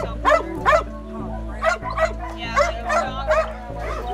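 A dog brought along by a visitor to a dog shelter barks in a series of about eight short, sharp yips and woofs, close by and in uneven bursts over a low steady hum.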